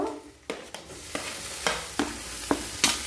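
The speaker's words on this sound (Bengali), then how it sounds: "তেলের মধ্যে নাড়াচাড়া করে নেব" Vegetables and spices stirred in hot oil in a wok, a spatula scraping in a series of sharp, close strokes roughly every half second over a steady low sizzle.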